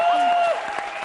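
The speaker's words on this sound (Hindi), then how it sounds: "तालियां।" Studio audience applause on a Hindi TV comedy show, short and bright, first mixed with a sustained tonal jingle and then continuing as brief clapping on its own.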